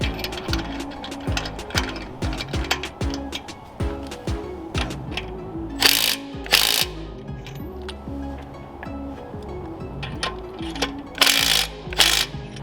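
A ratchet clicks rapidly in repeated runs while tightening the wheel lock nuts on a Mk5 Supra, close up, with several louder bursts of clicking and metallic clanks between them.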